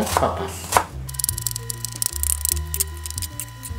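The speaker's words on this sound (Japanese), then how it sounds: "じゃがいももみじん切り細かくして" A knife mincing potato on a board for gyoza filling makes rapid, rhythmic chopping taps close by, heard over steady background music, with a voice briefly at the start.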